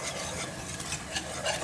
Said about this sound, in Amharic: ይሄንን በደንብ እዚህ ጋር ጥብስ ታደርጋላችሁ።